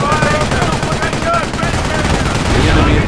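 Soldiers fire rifles and machine guns in a World War II battle during a German-side Operation Market Garden mission in Company of Heroes. The gunfire rattles densely under a wash of battlefield noise, with voices mixed in.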